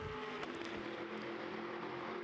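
A Ferrari GT race car with a 670 bhp engine runs through the Magny-Cours circuit during Ultimate GT Sprint Cup qualifying. Its engine gives a steady, sustained drone at an even pitch, with no break.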